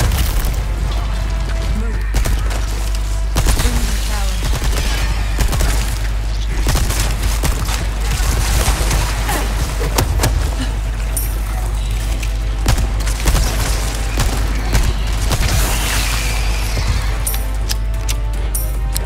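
Gunfire and crashing impacts in Resident Evil 4, repeated sharp shots and clattering hits over a constant low rumble, continuing throughout at steady loudness.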